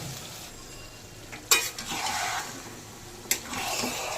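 Marinated mutton sizzles in a pan with a splash of water, a soft steady frying hiss punctuated by two sharp clanks of a spoon stirring against the metal.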